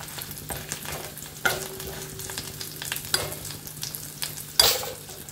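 Panch phoron spices with dried red chillies frying in hot oil in a pan, a steady close sizzle with intermittent scraping stirs of a spatula and a louder crackle near the end, no speech.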